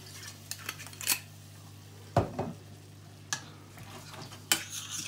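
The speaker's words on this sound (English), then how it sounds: "Give that a wee stir." A utensil stirs a splash of white wine into softening peppers in a pan for chicken à la king, giving a few sharp scrapes and clinks against the pan over a steady low hum.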